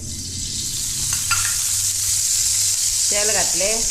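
Eggs frying in hot oil in a pan, a loud steady hissing sizzle filling the whole clip, with a voice briefly heard near the end.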